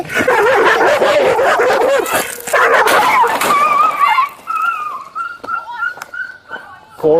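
A dog whimpers and yelps in distress at a residence after shots were fired, high strained cries rising and breaking, near and loud at first then trailing into thinner whines, mixed with agitated human voices.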